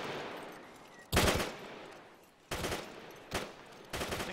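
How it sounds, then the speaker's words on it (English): Several bursts of automatic gunfire in Arma 3, loud and close, with four separate volleys spaced over a few seconds against quiet background ambience. "Shots fired. Shots fired."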